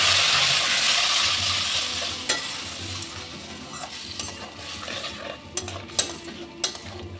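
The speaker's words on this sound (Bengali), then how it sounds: "মশলাটাকে খুব ভালো করে কষিয়ে নেব" Spice paste sizzles loudly in a pan, the hiss fading as metal scrapes and taps from stirring grow sharper and more frequent.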